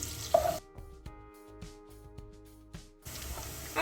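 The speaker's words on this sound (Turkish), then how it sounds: "Soğanımızı tenceremizde 1-2 dakika kadar çevirelim." Finely chopped onion sautéing in melted butter and oil in a soup pot for chicken broth soup: short bursts of close sizzling at the start and end, with a quieter stretch of low stirring between.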